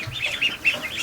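Ducks in their pen give a short run of quick, fairly loud quacks and chattering calls, with no voices over them.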